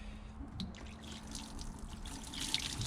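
Water pours gently from a watering can over a degreased bike chain, a steady soft splashing trickle with some dripping, close and continuous with no talking.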